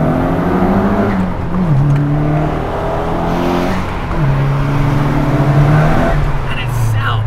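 A car engine pulling hard in second gear around 3,500 rpm, a loud, close, rising drone with audible pitch shifts as revs climb, with someone talking over it.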